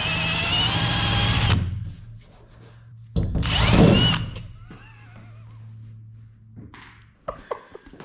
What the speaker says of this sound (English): so I got one of these 3M rubber wheel things